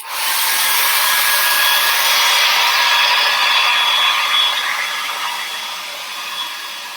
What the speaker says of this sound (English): I can just make the drying process faster with my hair dryer.